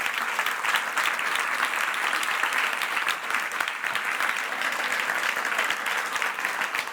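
Steady, dense applause from a science festival audience after a talk, even and continuous throughout with no voices standing out.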